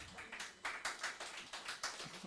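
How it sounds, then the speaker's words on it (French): Audience at a church gathering claps in a series of distinct bursts, roughly rhythmic and fairly quiet, with faint background voices between. "vamos a darle un aplauso al que trajo la Coca-Cola"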